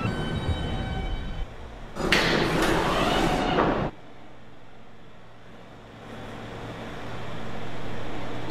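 Doors slide shut on an R160A M subway train in the Roblox game United Transit, with a loud hissing burst of about two seconds, then a steady low hum from the stationary train.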